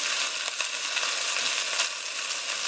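Pork sizzling and crackling steadily in a hot pan, being cooked until very well done; a continuous close-up fry with small pops throughout and no talking.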